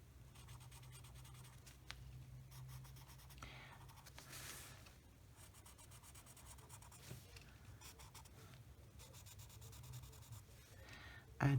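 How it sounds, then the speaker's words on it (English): A blender pencil rubs and scratches steadily across paper during coloring of a country kitchen page, a soft continuous scraping with short strokes and pauses, close up and quiet, with no voices. "I do love my blender pencil"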